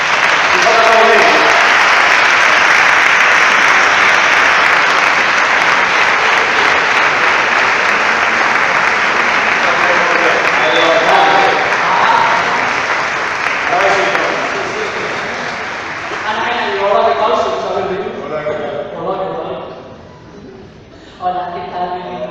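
Loud, sustained applause from an audience at a Valencian literary awards ceremony, greeting the culture deputy of the Diputació de València; dense clapping holds steady, then thins and fades toward the end as talk begins underneath.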